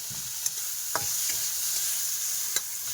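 Sliced bitter gourd fries with salt and turmeric, a steady bright hiss of oil with a few quick stirring taps and scrapes, heard up close without voices.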